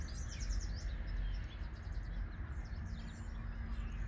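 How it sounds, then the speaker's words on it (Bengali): Birds sing in trees outdoors on a mild early-summer day in Canada, several chirps and twittering calls, moderately distant over a low steady background hum. "গাছে গাছে পাখি ডাকছে।"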